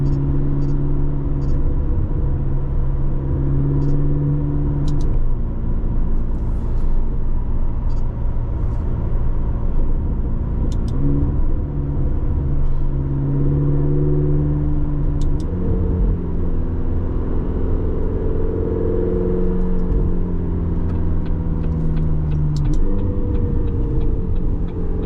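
A 2025 McLaren GTS with a dual-clutch gearbox drives on the road, its engine a loud, steady low rumble from inside the cabin, rising in pitch through the gears with brief shifts.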